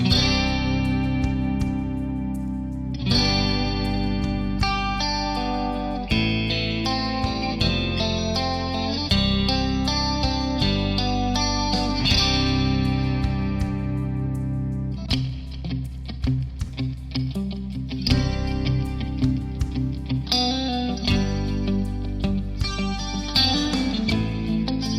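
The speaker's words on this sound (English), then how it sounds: "How to get a clean sound like this without busting your bank account?" A clean electric guitar with a shimmering chorus effect plays sustained chords and arpeggiated notes, steady and full throughout, with no voices.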